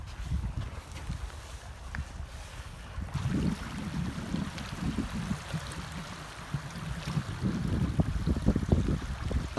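Lake water laps at the shore of Big Bear Lake, California, on a cold pre-storm day. Soft irregular splashes come and go under steady wind noise, with no talk.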